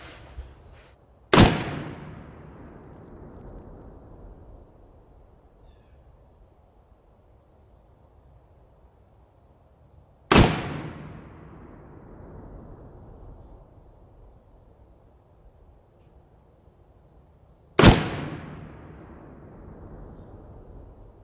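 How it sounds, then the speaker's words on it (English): Three loud, sharp rifle shots from a Palmetto State Armory PSA AKP AK-pattern rifle with a hot barrel, spaced several seconds apart, each cracking hard and then leaving a long echoing decay outdoors. "So let's take 5 shots."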